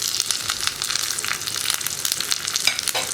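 Curry leaves sizzle and crackle in hot oil with onions and fenugreek, a steady close-up frying hiss with brisk popping, for tomato theeyal.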